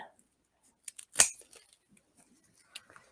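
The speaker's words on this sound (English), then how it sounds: "I'm going to use scissors to cut these ends just to clean them up a little bit." Scissors snip the ends off zip ties on a daisy wreath, giving a few short, sharp clicks and one louder crisp cut in a quiet room.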